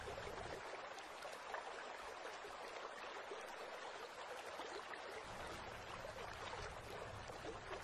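Steady, broad rush of river water as animals cross the San river in wild European countryside, a constant even flow with no voices.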